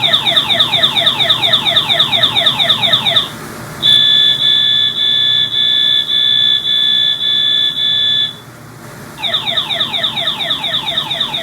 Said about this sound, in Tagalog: Palitan natin yung siren. Emergency. Red alert.